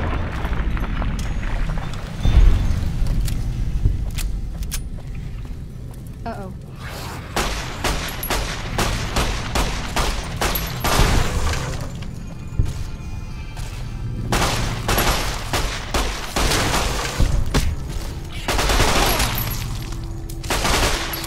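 Gunfire and explosive booms in Fallout New Vegas, with repeated loud bursts and volleys over a continuous game background, some heavy blasts mixed with faint talk.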